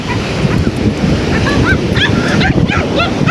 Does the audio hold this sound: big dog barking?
yes